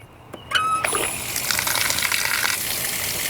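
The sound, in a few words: water gushing from garden hose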